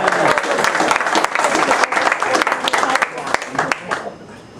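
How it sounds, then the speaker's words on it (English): An awards night audience breaks into loud, close applause, dense clapping with sharp individual claps standing out. It thins toward the end, with voices mixed in. "You got applause."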